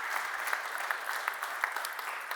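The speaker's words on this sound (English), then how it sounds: "Please give him a warm applause." A conference audience claps to welcome a speaker, a soft, even patter of many hands heard from a distance and continuing steadily throughout.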